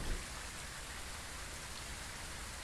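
Rain falls in Phasmophobia as a steady, even hiss of drops on surfaces, continuous and fairly close, with no other sounds over it.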